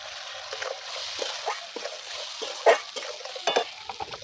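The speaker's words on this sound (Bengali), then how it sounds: "এবার সর্ষে বাটাটা দিয়ে দেবো।" Mustard paste being added to oil-fried spices in a pan for a pomfret fish curry, quiet soft sizzling with intermittent stirring scrapes and a few sharper splatter pops, close and steady.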